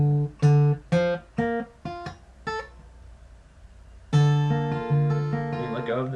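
A guitar strums chords from a song in a lesson, with several short plucked strums followed by longer ringing chords, played close and clear with no voice.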